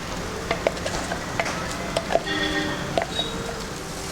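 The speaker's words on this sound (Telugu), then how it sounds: "ఈ పేస్ట్ అంతా కూడా ఇలా నెమ్మదిగా వేగుతుంది" Chicken spice paste fries slowly in a pan with a soft, close sizzle, punctuated by occasional stirring scrapes and light taps.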